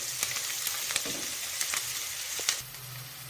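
Crushed garlic is stirred into a frying prawn and eggplant mixture, a close sizzling hiss broken by spatula clicks and scrapes, and nobody talks.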